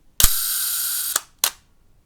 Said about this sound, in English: So let's fire that shutter now.